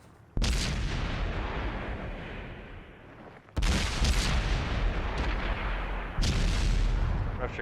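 Tank cannon fire in a World of Tanks competitive match, three heavy booming shots with long rumbling decays, loud and close.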